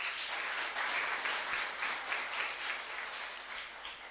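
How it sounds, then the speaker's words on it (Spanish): A congregation applauds during a Catholic Mass in a chapel in Ñemby, producing a steady, dense wash of many clapping hands that holds at an even level for several seconds without talk. "Fuerte los aplausos."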